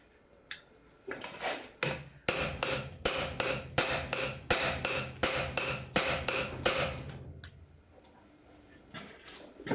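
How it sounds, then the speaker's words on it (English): A hammer repeatedly strikes a metal bearing to beat it into a tiny dollhouse pan, giving a steady run of about a dozen loud, sharp metallic clanks close by, with a few scattered taps before and after. "You take this bearing and just hammer it."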